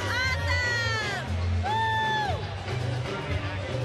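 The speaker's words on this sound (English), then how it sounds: "A lively crowd." Lively crowd at a baseball ballpark during a New York Yankees at Florida Marlins game, a steady roar of cheering with whoops and a few shrill whistles, heard throughout.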